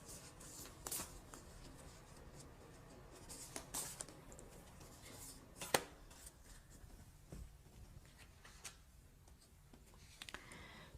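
Tarot cards being shuffled and drawn for a love reading, with soft papery riffles and a few sharp card snaps spread across the span, quiet and close with no talking.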